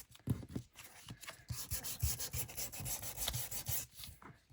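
Sandpaper rubs over a sheet of paper for a junk journal in short back-and-forth scrubbing strokes, close and moderately loud, with brief pauses between bursts.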